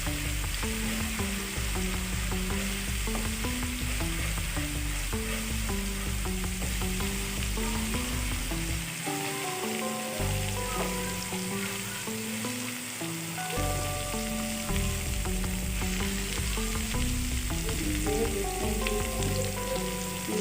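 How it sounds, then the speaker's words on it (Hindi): Steady loud sizzling and crackling of garlic-ginger paste frying in hot oil, continuous throughout, with faint music playing underneath. "ऑयल गर्म हो चुका है और इसके अंदर मैंने 1 टीस्पून लहसुन अदरक का पेस्ट डाल दिया है।"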